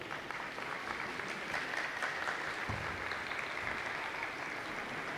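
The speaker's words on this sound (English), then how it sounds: "Let's give everyone a round of applause here." Applause from an audience at a high school awards evening, a steady wash of many hands clapping that holds evenly throughout at moderate level.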